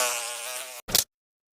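A wasp buzzes with a steady, close, high-pitched drone that cuts off abruptly, followed by a brief sharp burst and then silence; no voices.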